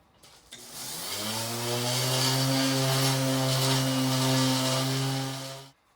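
A powered sander with 220 grit sandpaper works on a headlight during restoration, spinning up into a steady, loud, tonal motor whine that holds for several seconds, then cuts off.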